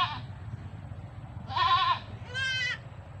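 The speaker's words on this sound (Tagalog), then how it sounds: "sigaw ng mga maliliit na kambing" Newborn goat kids bleat on a farm in three separate cries, a short one, then a louder wavering one, then a higher one, close by over a low background rumble.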